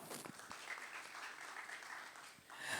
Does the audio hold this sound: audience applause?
yes